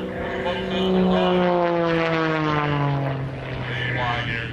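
Propeller aerobatic airplane maneuvering at an airshow with smoke system on, engine drone rising and falling in pitch as it tumbles and climbs vertically, loud and continuous, with an announcer talking over it.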